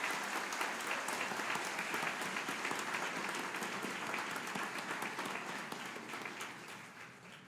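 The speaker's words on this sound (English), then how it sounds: "please help me give a nice round of applause, a well-deserved round of applause for all of our graduates" A large audience at a fall college graduation ceremony claps for the graduates in dense, sustained applause, with no voices over it, fading slightly toward the end.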